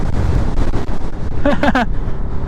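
Strong wind buffets the microphone in a continuous loud roar on a windy hillside in Malico, San Nicolas, Pangasinan, and a short voiced exclamation rises briefly over it.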